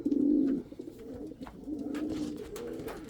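Indian fantail and pouter pigeons cooing in a loft, a low, throaty, rolling coo that starts loud and near, then continues softer and more steadily with several birds overlapping.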